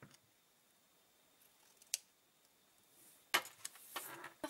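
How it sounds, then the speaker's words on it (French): Scissors snipping the ends of a ribbon at an angle after tying a bow on the back of a handmade paper mini-album: a single soft snip, then a couple of sharper crisp cuts close by in a quiet room. "je vais ensuite couper les extrémités en biseau"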